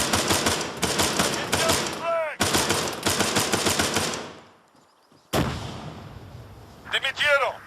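Bursts of machine-gun fire rattle loudly in an ARMA III firefight, several rapid volleys separated by short gaps, with a shouted voice rising between the bursts.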